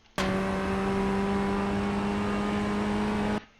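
A race car engine in iRacing at Oulton Park International holds a loud, steady tonal drone for about three seconds, starting abruptly and cutting off just as suddenly. No one speaks.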